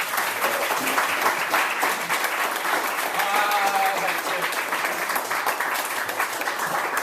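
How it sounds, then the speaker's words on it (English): Polite applause from a small audience at a literary reading fills the room steadily and evenly throughout, with faint voices murmuring beneath the continuous clapping. "Polite, dignified applause."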